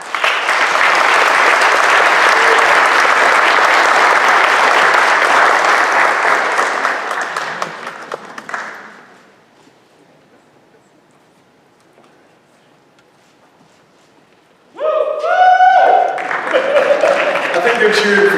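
Loud, sustained applause with cheering from a graduation ceremony audience fills the first eight seconds, then fades to near silence before a voice begins speaking at the end.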